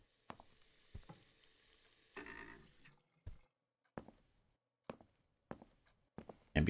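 A tap runs faintly in the video game Mirror Layers, a soft hiss of water that cuts off abruptly, followed by sparse quiet clicks and taps.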